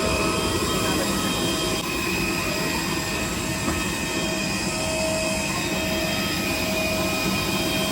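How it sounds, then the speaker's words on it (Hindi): An IndiGo aeroplane's engines roar in a loud, steady drone with a high whine on top, heard close by on the apron while passengers walk out to board at Darbhanga. "जहाज़ का इंजन, जो कितना आवाज़ कर रहा है।"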